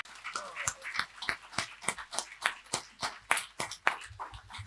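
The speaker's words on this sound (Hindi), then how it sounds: "एक बार जोरदार तालियां इनके लिए भी हो जाए" Sparse applause at a poetry gathering and award ceremony, a few distinct hand claps in an uneven rhythm, fairly quiet, with a dog whimpering in the background.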